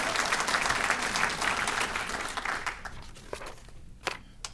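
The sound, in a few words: audience applause for the Grand Marshals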